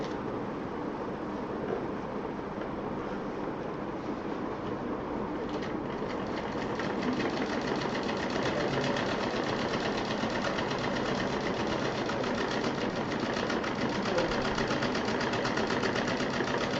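A sewing machine stitches layers of fabric together for a handmade pouch, a steady close-up mechanical whirr that runs continuously and grows slightly louder partway through, with no talking.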